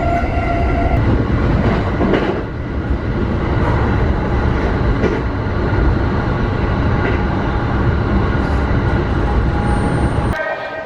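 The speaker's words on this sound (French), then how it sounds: "on a pris le deuxième train direction Utsunomiya" An Utsunomiya Line train in Japan runs along the track with a loud, steady rumble heard from on board. There is continuous wheel and motor noise, brief tonal chimes or a horn-like toot, and a sharp change near the end.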